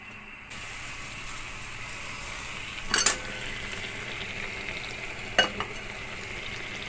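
Rice is stirred in a cooking pot over an open fire, with a steady crackling hiss broken by two sharp metallic scrapes of the utensil against the pot, close and alone.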